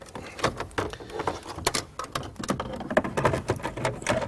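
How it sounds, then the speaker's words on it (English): Sharp plastic clicks of a Saab 9-3 cup holder switch snapping into its cradle, mixed with a busy run of small handling taps and rattles, close and moderately loud. "Snap it in. Make sure you hear the audible click of the switch."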